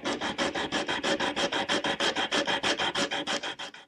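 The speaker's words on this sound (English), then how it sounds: "I'm going to take a sanding block and sand down." Rhythmic back-and-forth strokes of a sanding block on wood, about twenty even rasps in quick succession, close and clear with no talking.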